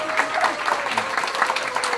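Steady applause from a crowd at a year-end entertainment troupe event fills the whole stretch, dense and continuous, with a faint sustained tone running underneath.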